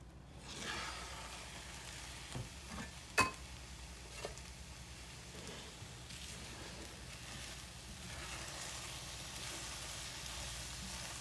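Scrambled eggs frying in a seasoned iron skillet, a soft steady sizzle with a few sharp clicks and taps of a utensil against the pan, close and fairly quiet.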